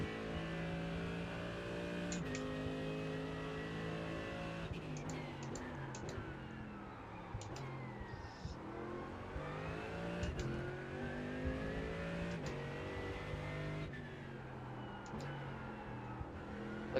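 Steady, droning Lotus 49 race car engines in a racing game, whining through gear changes with rising and falling pitch and occasional shifts, continuous and fairly quiet with no voices.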